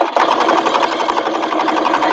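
A sewing machine drives steadily through a foam-padded bag seam, a loud, close, continuous motor whir with a rapid stitching rhythm and no pauses.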